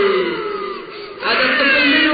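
A voice imitates a baby crying at night: a drawn-out, wavering wail that dips briefly, then rises again, louder and sustained.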